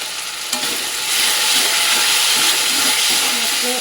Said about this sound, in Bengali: টমেটো আদা রসুন পেঁয়াজ সবটা ভাজা ভাজা হয়ে গেছে